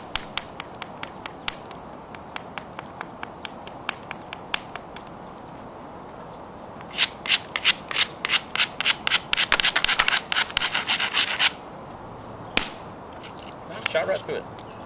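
A flint knapper strikes straight down on the edge of a flint rock to nibble off the edge and remove flakes, giving sharp, glassy clicks and taps in irregular bursts, close by, with quiet pauses between runs.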